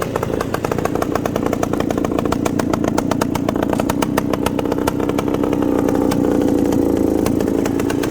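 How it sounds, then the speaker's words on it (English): A 1974 Bultaco Alpina 350, a classic big-bore two-stroke motorcycle, runs steadily with a loud, close, even engine note that barely changes throughout. "Classic big bore Bultaco"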